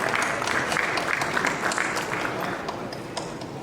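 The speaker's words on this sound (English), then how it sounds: "Huge round of applause" Audience at an Indian sugar-industry conference claps for a memento felicitation, a full burst of applause that stays steady and then eases slightly toward the end, heard alone without talk.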